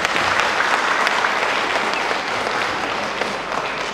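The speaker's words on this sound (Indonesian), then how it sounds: "Tepuk tangan buat guru TK" A large audience at a regional kindergarten teachers' association conference in Baubau gives kindergarten teachers a sustained round of applause, dense and steady, fairly loud, with no talking over it.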